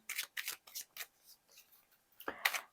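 A tarot card is drawn from a deck, giving a quick run of close, crisp card flicks and shuffling snaps followed by a brief pause and a final sharper slide, quiet otherwise with no talk.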